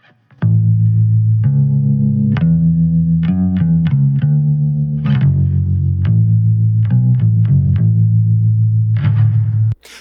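Bass guitar plays a run of low notes through a vintage-style tremolo effect on a Fender amp, pulsing and wavering, loud and alone, stopping abruptly at the end.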